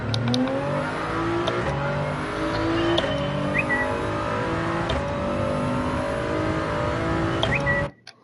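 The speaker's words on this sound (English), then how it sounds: "Anything with a car going around" A car driving around in a game test, its engine droning and revving loudly and steadily with shifting pitch, then cutting off abruptly at the end.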